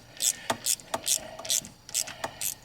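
A bolt is worked loose from a damaged car battery terminal with a ratcheting tool, giving a series of sharp, evenly spaced ratchet clicks close up, about two per second, with short scraping bursts in between.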